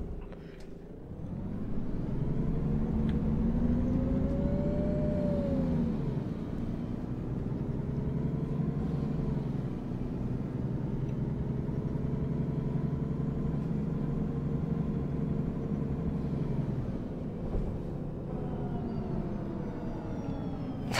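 A Mercedes Citaro Euro 2 bus diesel engine drives steadily in OMSI 2, with a continuous low drone that shifts slightly in pitch as it revs, up close and without talk.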